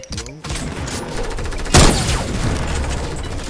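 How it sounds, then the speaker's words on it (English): Gunfire in the Fortnite battle royale game: a burst of rapid shots opens, then a single loud, sharp report stands out near the middle, followed by continuous game noise. "Nice shot. That was a 6-meter shot."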